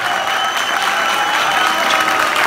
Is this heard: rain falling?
no